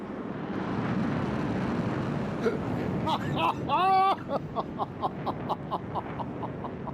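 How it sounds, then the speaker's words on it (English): In a flight simulator game, a jet's afterburner gives a steady, broad roar that swells slightly. A voice then talks over the continuing rumble. "There's the afterburner."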